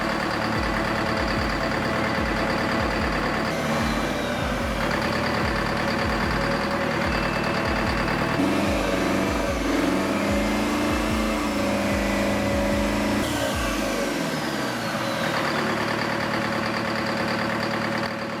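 A Fairbanks-Morse opposed piston diesel engine runs loud and close, its sharp-edged exhaust beating in a steady rhythm that shifts in pace partway through before settling into a lower throb.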